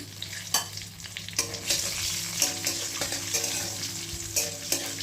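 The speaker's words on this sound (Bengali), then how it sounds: "আমি কালো জিরে ফোড়ন দেবো তেলে বেশ অনেকটাই কালো জিরে আমি দিলাম দিয়ে এর মধ্যে কাঁচা লঙ্কা আমি কেটে রেখেছিলাম সেটা আবার দিয়ে দিলাম" Black cumin seeds and green chilies fry in hot oil, a busy crackling sizzle broken by repeated scraping stirs and clinks against the pan, close and steady throughout.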